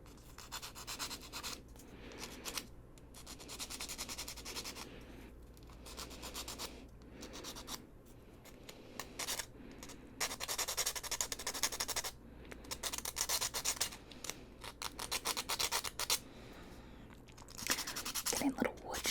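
Close-up soft rubbing and scratching as small wood pieces are sanded for a miniature library book nook, steady gritty strokes in irregular bursts, faint and intimate, with a few quiet gaps.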